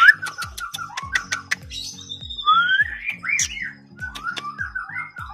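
A young magpie-robin chick gives begging calls: a rapid series of thin chirps and rising whistled notes, close and clear, repeating in short bursts over a faint regular ticking background.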